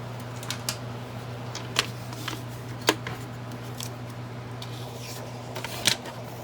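Scissors snip through oversize book pages in a few sparse, crisp cuts spaced seconds apart, faint against a steady low electrical hum in a quiet room.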